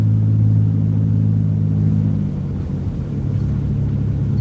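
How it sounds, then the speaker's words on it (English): The engine of a big red van drifting on a snowy road, a loud, close, rumbling drone held steady and then dropping in pitch and level partway through, with no talking. "Put the car into a right drift."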